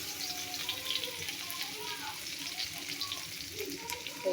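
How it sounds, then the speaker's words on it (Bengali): Crushed chopped garlic and whole cumin frying in hot oil, giving a soft, steady crackling sizzle under a voice as she talks. "তো এখন আমি যে রসুন কুচি থেতো করা রাখা ওইগুলো দিয়ে দিলাম"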